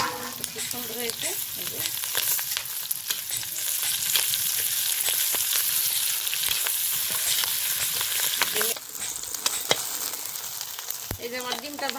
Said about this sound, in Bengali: এই যে আমার ডিমটা ভাজা হয়ে গেছে,